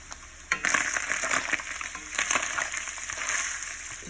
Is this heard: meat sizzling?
yes